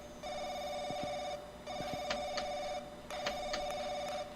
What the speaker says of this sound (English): But the phone's ringing.